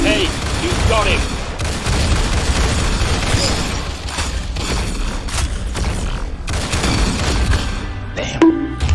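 Rapid video game gunfire bursts, dense and continuous with booms mixed in, under a voice commenting during play.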